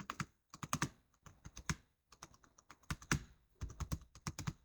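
Typing on a computer keyboard, a quiet close run of quick key clicks in irregular bursts with short pauses between words.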